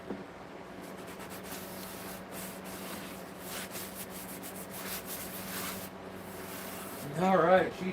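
Sandpaper rubs steadily against a wooden piece spinning on a lathe, a continuous abrasive hiss that runs throughout before a voice speaks near the end.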